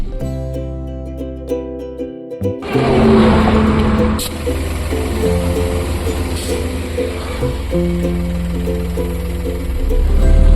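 A loaded truck on a long road trip toward Mumbai drives along the highway, its engine rumbling steadily and rising in loudness after a quieter, tonal opening, with a dense continuous road roar close by.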